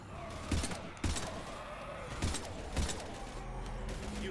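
Gunfire at husks in Mass Effect 3: a handful of sharp, separate gunshots in short bursts with gaps between them, heard against quiet game ambience with no voices.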